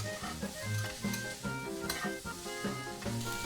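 Ground beef and potato stir-fry being stirred and tossed in a hot pan, a spatula scraping in irregular strokes over steady close sizzling and frying.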